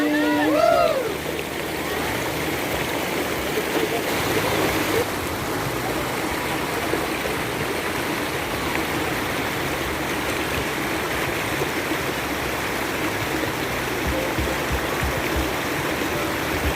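River stream flowing at Leuwi Kunten nature site near Sentul, Bogor, a loud, steady rushing of water close by, with a brief high tone near the start and voices faintly under the flow.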